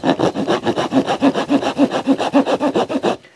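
A saw blade clamped in a Nicholson file handle cuts through wood in a steady run of about a dozen close, loud rasping back-and-forth strokes, ending abruptly.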